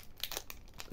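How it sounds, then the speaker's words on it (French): Japanese Pokémon card booster pack wrapper crinkling as it is handled and opened, a run of close, crisp crackles and rustles across the second. "On va ouvrir ce dernier petit booster"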